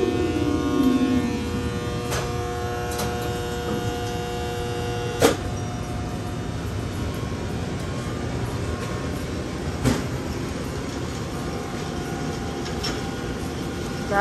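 A noisy Westinghouse elevator motor with a fault runs steadily in the main machine room, producing a constant loud hum and drone with a few sharp clicks and knocks, and no talking.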